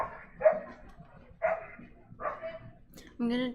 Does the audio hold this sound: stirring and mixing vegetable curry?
no